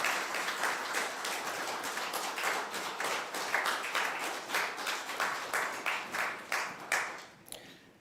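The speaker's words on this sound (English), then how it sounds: "Ladies and gentlemen, please give him a round of applause" Modest applause from an audience at a Nepal-UK tech forum, light, fairly distant clapping with individual claps audible in the rhythm, steady for about seven seconds before fading out.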